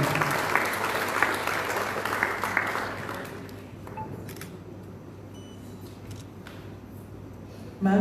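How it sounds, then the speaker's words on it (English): A crowd claps steadily and fairly loudly at a Goa felicitation ceremony for retiring headmasters, the applause thinning and fading out after a few seconds, leaving quiet room tone. "A round of applause for Ma'am Chitra Sawant."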